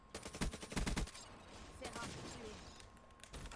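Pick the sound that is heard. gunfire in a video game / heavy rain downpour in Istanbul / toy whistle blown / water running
gunfire in a video game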